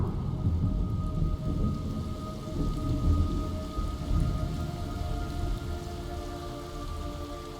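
Heavy rain pours and thunder rumbles low in a Metal Gear Solid Delta: Snake Eater game scene, a continuous loud downpour with deep rolling booms swelling and fading.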